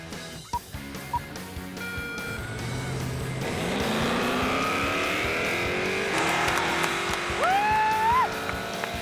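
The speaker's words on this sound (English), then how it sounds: "Eric warms up his tires for the practice run." A 1969 Pontiac Firebird race car warming up its tires before a drag-strip practice run: engine revs building into a sustained roar with rising pitch and tire squeal, preceded by a few sharp knocks, loud and close.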